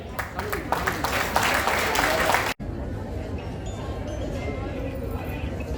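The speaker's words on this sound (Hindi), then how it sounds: "तालियां बजें।" An audience at a literary and cultural event in Jamshedpur claps in a dense burst of applause that cuts off abruptly, followed by a quieter room with murmuring voices.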